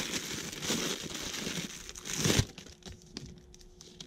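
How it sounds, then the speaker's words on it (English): Plastic bag around a Casio Pro Trek solar watch crinkles and rustles up close during unboxing, building to a louder crackle before dropping to quiet handling noises. "It's in a plastic bag."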